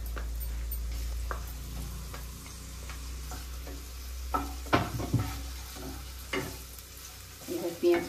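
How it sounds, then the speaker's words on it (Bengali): Chopped onions fry in white oil for palak paneer, a low steady sizzle with scattered clicks and scrapes of stirring that grow busier toward the end, close and without voices. "সাদা তেলটার মধ্যে আমি এবার এই যে পেঁয়াজগুলো দিয়ে দিলাম"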